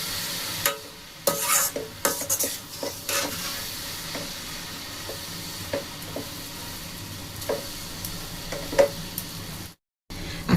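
Sugar syrup mixture for darbesh or motichur laddu being stirred in a pan over a low flame, with repeated soft scraping strokes over a steady faint sizzle and a brief drop to silence near the end.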